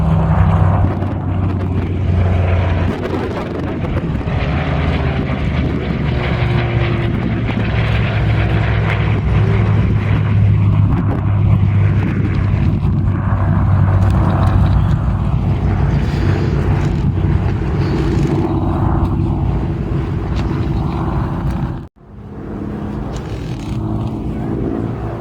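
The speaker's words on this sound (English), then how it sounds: "And from the right with the photo pass, Mark Todd, the P-63A." A Bell P-63A fighter plane roars past on a low photo pass, its engine loud and sustained for most of the stretch, wavering as it moves, with a brief dropout near the end.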